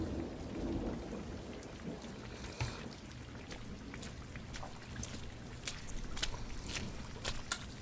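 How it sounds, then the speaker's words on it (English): Steady rain patters down over a low rumbling background, with scattered sharper drops and splashes throughout and no talking. "Raining"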